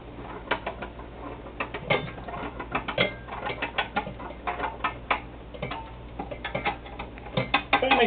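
Screws on a homemade cheese press are tightened down during cheddar making, producing close, dry ratcheting clicks in irregular bursts that continue steadily without any talk.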